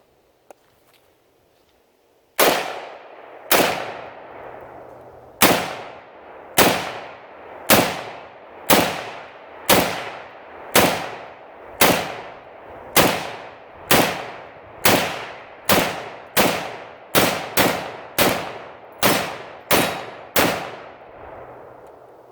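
Kel-Tec RDB rifle fired outdoors on first use out of the box, about seventeen loud, sharp shots at a steady, fairly quick cadence, each with a short decaying echo, no talking.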